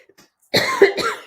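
A single cough, close and fairly loud, with a short throaty rasp in two bursts, after near silence.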